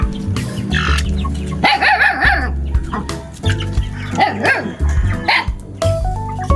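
A lively pet puppy named Max yaps in repeated bursts of close, high barks with brief squeals between them, its playful energy clear, while a second voice or faint bird calls sound in the background.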